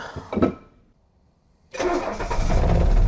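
A diesel Mercedes engine, sitting unused for years, cranks briefly, falls quiet for a moment, then catches and starts, settling into a loud, rough idle close by.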